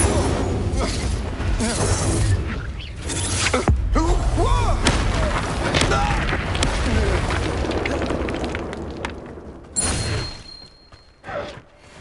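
Fire spell blasts cast in Hogwarts Legacy during a duel, a series of loud whooshing bursts and thuds layered over dense game music and shouted voices, with a sharp burst near the end before things quiet down.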